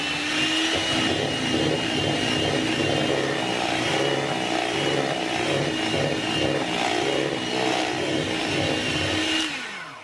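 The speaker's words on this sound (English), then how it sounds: "I popped a half a cup of mascarpone in and just give that a whisk through" Electric mixer whisking half a cup of mascarpone into whipped cream for a chocolate frosting, a loud steady motorized whir that runs continuously and alone before winding down at the very end.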